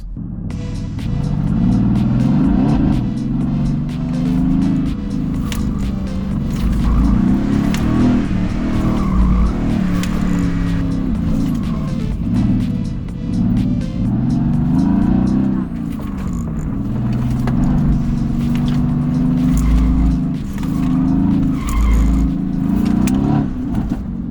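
A 690 hp Mercedes-AMG GT on worn rear tyres with almost no grip is driven hard on a track. Its engine revs rise and fall repeatedly, and loud tyre squeals and skids come in waves throughout.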